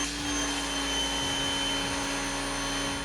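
A Westinghouse ePX3000 electric pressure washer runs under load, giving a steady, loud motor whine with a constant tonal hum that stays unbroken throughout, close to the microphone.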